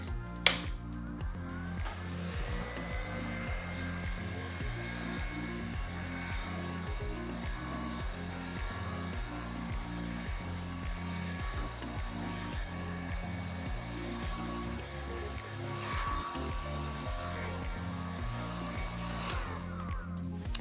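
Airbrush spraying tempered cocoa butter onto chocolate molds: a continuous close airy hiss with faint whining tones, held steady for about twenty seconds after a small click at the start.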